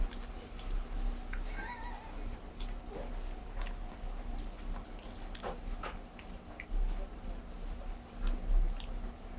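Close, crunchy chewing of Gangwon-style dakgangjeong, crispy glazed fried chicken, with bites and crackles scattered over a low steady hum.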